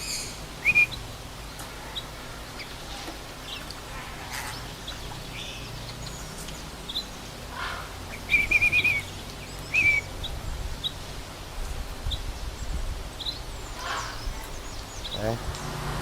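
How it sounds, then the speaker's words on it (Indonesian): A Bali starling gives brief whistled calls, one short call early and a clearer cluster of whistles a few seconds later, set against quiet outdoor background with people talking. "Ini jalak Bali."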